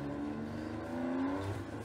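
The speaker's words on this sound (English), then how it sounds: "Just like hearing that rev of the engine." A race car engine revs in the Project CARS 2 driving game, a steady, moderately loud motor drone with a rising pitch sweep midway, heard without talk.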